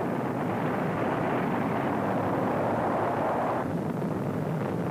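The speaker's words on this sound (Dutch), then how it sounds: "De ene explosie volgt na de andere. We zagen een Jupiter C en nu een Atlas." A 1950s Atlas rocket launch ends in an explosion, heard as a loud, sustained broadband roar with a rumbling low end that holds steady for several seconds, then thins slightly near the end, with no voices.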